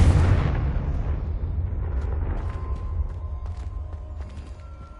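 A Confringo spell explosion in Hogwarts Legacy bursts loudly at the start, then a rumbling debris tail fades away with scattered crackles and pops, no voices.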